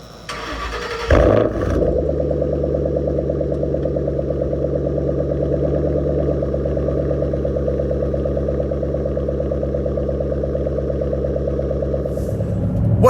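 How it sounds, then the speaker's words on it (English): A Ford Shelby GT500 starts with a sharp burst, then settles into a steady, deep idle rumble that stays close and loud for over ten seconds, with no talking. "we're going to take our first drive in the Shelby GT500 in Florida"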